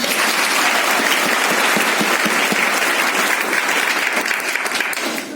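Loud, sustained applause from a large crowd, dense clapping continuing evenly for several seconds before easing slightly at the end.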